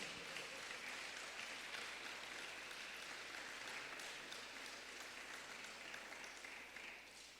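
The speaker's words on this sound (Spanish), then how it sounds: "Dele un aplauso al Señor y bendiga su nombre." A congregation applauding inside a church, a faint, distant wash of dense clapping that holds steady for several seconds with a low hum underneath and no voices.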